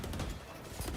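Dense rapid gunfire in an esports shooter video game during a playoff match, a sustained loud volley of shots filling the whole moment with no talking.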